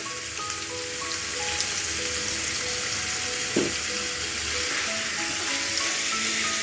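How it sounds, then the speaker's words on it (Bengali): Chopped garlic fries in hot oil, giving an even, rain-like crackling sizzle that holds steady throughout, with one brief clunk near the middle and a faint tonal hum underneath. "এর মধ্যে আমি রসুন কুচিগুলো দিয়ে দিলাম। হালকা রসুন কুচিটা একটু ফ্রাই হবে।"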